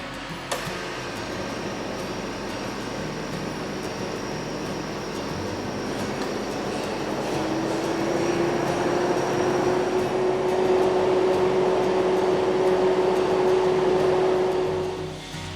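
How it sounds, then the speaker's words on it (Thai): An air conditioner fan runs during a test after refrigerant replacement in a factory workshop, giving a steady whirring hum. A clear tone rises out of it midway and holds to the end, with no talk. "ครับพัดลมทำงานครับปกตินะครับ"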